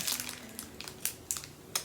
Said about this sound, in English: So I'm trying to poke them with a pen.